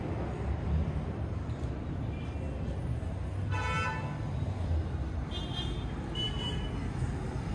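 Car horns honk in the chaotic street traffic of La Paz, Bolivia, with a couple of distinct toots standing out over a steady roar of passing vehicles and city noise.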